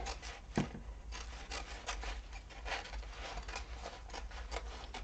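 Scissors trim the fabric seam allowance of a sewn bag in a sewing class, a series of close, soft crunching snips and rubbing cuts in an irregular rhythm.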